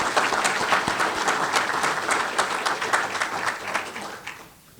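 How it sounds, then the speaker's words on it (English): Loud, dense applause from a conference audience at a leadership session on warfare and security, thanking partners and sponsors: an even, steady roar of many hands for several seconds before tapering off. "a round of applause for our partners and sponsors"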